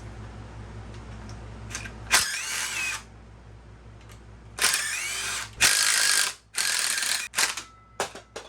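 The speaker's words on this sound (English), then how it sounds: "Now I got to take the studs out." Power tool running in short bursts while pulling engine studs during a Mitsubishi 4G63T turbo engine teardown, several loud whirring spins with pauses between them, close by and with no talk.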